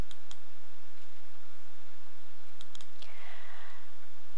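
Computer mouse clicks, a few sharp, quiet ticks spread apart over a steady electronic hiss, with no talking.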